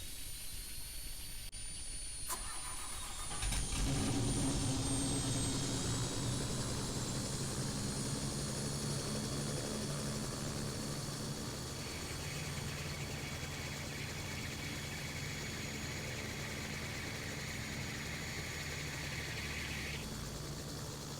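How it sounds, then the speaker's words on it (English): A helicopter in a flight simulator game starts up: a click, then a rising whine as the turbine spools up into a steady, loud engine drone with a high whistle, continuing alone without talk. "turn the helicopter on"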